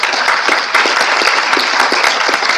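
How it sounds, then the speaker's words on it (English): Audience applause at a conference after a speaker finishes his talk, a dense, continuous wash of many hands clapping, loud and close throughout the short burst. "So let's give him a round of applause."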